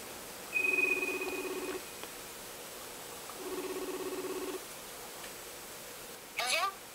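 A telephone rings in two clear electronic bursts separated by a pause, at moderate level, followed by a brief higher chirp near the end, with no talking over it.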